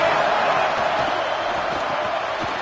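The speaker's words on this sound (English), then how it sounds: "Here comes the noise from this big crowd in Happy Valley on 3rd down." Big college football stadium crowd in Happy Valley roaring on third down, a loud dense wall of cheering and noise that holds steady throughout.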